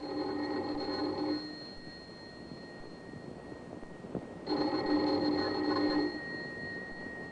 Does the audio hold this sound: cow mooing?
no